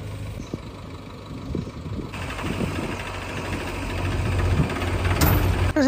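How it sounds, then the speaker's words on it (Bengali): A JCB engine drones steadily at a medium pitch as it strains to pull a Swaraj 963 4WD harvester out of deep mud with a chain, growing slightly louder over the few seconds. "জেসিবিটি পৌঁছে গেছে হারভেস্টারের কাছে এবং শিকল দিয়ে টেনে তোলার চেষ্টা করছে, তবুও চাকা রোল করছে।"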